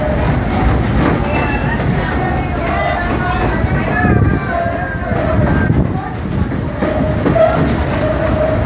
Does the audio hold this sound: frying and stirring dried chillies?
no